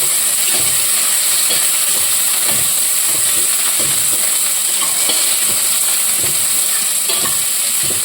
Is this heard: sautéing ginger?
yes